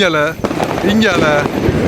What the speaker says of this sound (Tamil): எங்க பார்த்தாலும் வெடிதான். முழுக்க முழுக்க வெடி ஏதோ கொளுத்தி கொண்டே இருக்காங்க.